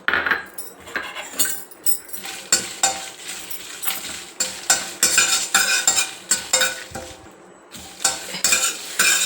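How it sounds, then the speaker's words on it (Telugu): Dry red chilli skins frying in a pan and being stirred: repeated scraping strokes of a utensil against the pan over a faint sizzle, close and rhythmic, with no talking. "ఈ మిరప తొక్కలు వేసి వేయించుకుందాం"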